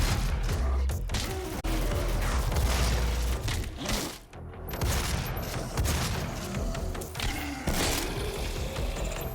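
Explosive-shot gunfire in the video game Doom, rapid bursts of blasts and booms with mechanical clanks between them, loud and dense, with a brief lull partway through.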